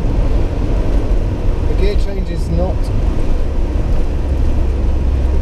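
A Lancia Delta Integrale Evo 1 on the move, with loud, constant engine drone and wind and road rumble filling the whole stretch, and a voice faint beneath the noise.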